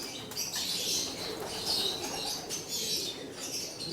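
Pigeons in a loft and aviary coo softly while wings flutter and flap nearby, a steady soft rustle with faint chirps in the background.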